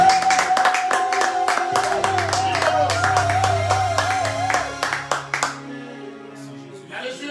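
A church congregation clapping together in rhythmic, sustained applause to acclaim Christ's resurrection, with voices and music mixed in, the claps thinning out toward the end.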